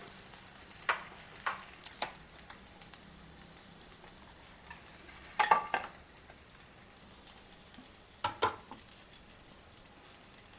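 Coriander leaves frying in a pan, a soft steady sizzle throughout with occasional faint clicks and stirring scrapes, fairly quiet and close with no talking.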